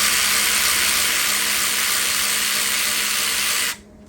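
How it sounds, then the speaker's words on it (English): Power tool whirring steadily and loudly up close while removing a bolt from an old engine during a Nissan G35 build, running for several seconds before cutting off abruptly. "take the bolt out."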